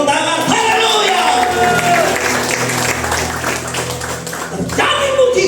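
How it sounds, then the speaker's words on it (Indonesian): A church congregation at a healing revival service applauds, sustained loud clapping mixed with whoops and cheers, while a preacher's amplified voice rings over the top. "Kita berikan tepuk tangan, haleluya."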